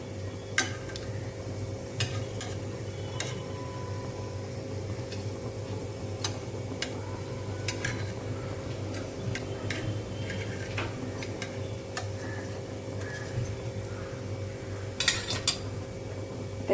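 Potato slices frying in oil in a pan for crispy batata kaap, a steady low sizzle running throughout, with occasional light clicks of a utensil against the pan.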